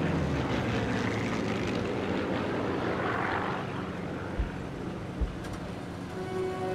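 Droning propeller aircraft engine from the video game Sniper Elite 3, a steady loud rumble throughout with a couple of brief thumps near the end.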